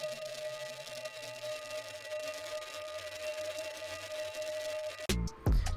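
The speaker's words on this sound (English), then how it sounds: "It's just like a vinyl crackle sound that sounds like this" A faint, quiet vinyl crackle texture sample: a soft continuous hiss with scattered tiny pops and a thin steady tone, ending in a brief abrupt glitchy burst.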